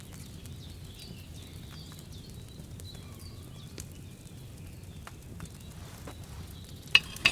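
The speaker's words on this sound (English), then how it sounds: "Hear that bubbling?" Wine bubbles and simmers in a cauldron over a flame in Kingdom Come: Deliverance 2, a soft, steady sizzling fizz with faint background chirps, close and quiet.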